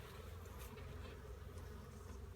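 Honey bees buzz densely around an open hive while honey is being harvested, a close, continuous swarm hum with no talking.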